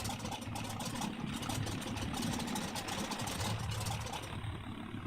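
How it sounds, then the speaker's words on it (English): Three engines of a Ju-52 trimotor in the FlightGear flight simulator run at a steady low drone, a continuous mid-level rumble without talk. "now we start the engines. Left engine, right engine, and the nose engine"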